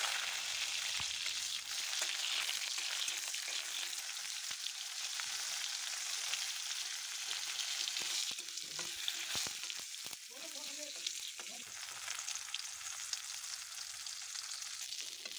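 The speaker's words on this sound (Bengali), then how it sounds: "এটাকে মিক্সারে পেস্ট করার আগে আমি টমেটো আর শুকনো লঙ্কাটাকে একটু কড়াইয়ে ভেজে নেব" Tomatoes and dried red chillies fry in oil in a wok, a soft, steady sizzle with occasional scraping stir sounds, fairly quiet and continuous throughout.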